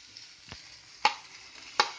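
Curry leaves and brinjal frying together in a pan, stirred until soft: a soft hiss of oil underlies a low thump and two sharp, bright crackling bursts from the hot oil, close by and without speech.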